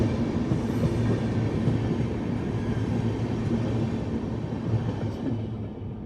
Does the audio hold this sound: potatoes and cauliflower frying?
no